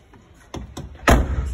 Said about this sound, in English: Side door.